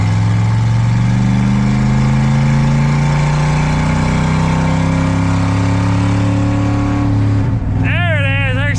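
A junkyard Chevy Impala wagon engine drones loudly and steadily under load, its pitch sliding as it shifts into second gear near the end, with a voice rising over it at the close.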